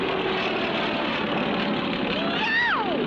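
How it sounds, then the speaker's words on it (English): A propeller airplane roaring close by in a vintage cartoon, a loud steady engine drone with a rising and falling whine as it sweeps past near the end. "It's a plane coming straight at us!"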